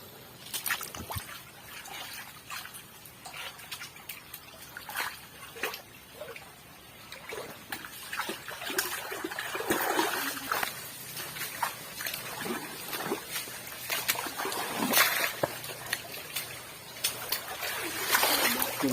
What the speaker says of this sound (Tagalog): ang bilis na ng agos ng tubig kasi pa high tide na